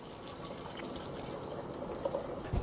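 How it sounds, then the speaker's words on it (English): Homemade elderberry syrup poured from a pot into a mason jar gives a steady, close liquid gush that thickens and splashes slightly toward the end, with no talk. "I'm going to pour the contents of this into a"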